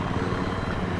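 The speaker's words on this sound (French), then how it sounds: "l'hélicoptère d'attaque des" The Viper attack helicopter in the video game Battlefield 3 gives a loud, steady rotor drone that throbs rhythmically and fills the whole moment, with no voices.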